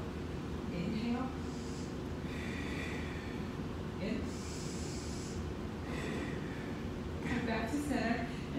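Deep audible breaths in and out, snort-like nasal exhales and gasping inhales, during a basic Pilates exercise with torso rotation, repeating over several cycles under an instructor's steady voice.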